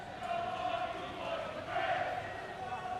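Geylang International football fans chanting and cheering for their players inside a Singapore stadium, a steady distant crowd roar with swelling voices throughout.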